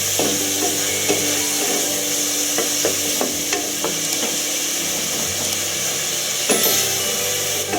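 Onions and tomatoes sizzle in a pan, seasoned with salt for a hotel-style salna, making a steady loud frying hiss with occasional scraping stirs of a spoon against the pan.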